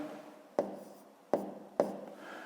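A pen writes numbers on paper in a fifth-grade math exercise, three sharp scratchy strokes spaced about half a second apart over faint soft rubbing, close and quiet.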